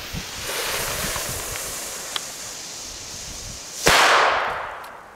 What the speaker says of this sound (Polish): odpalamy pierwszą sztukę